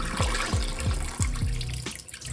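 Water is poured out of a film developing tank, giving a series of gurgling glugs in an irregular rhythm as the liquid splashes out, close and clear, with no talking.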